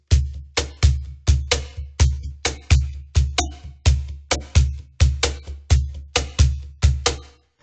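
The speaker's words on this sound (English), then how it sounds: "we want to play that on the cajon with one-on-one technique" A cajon plays a basic rock pattern with one-on-one hand technique: a steady loop of deep bass thumps alternating with sharp, bright slaps, evenly spaced and loud, with no voices.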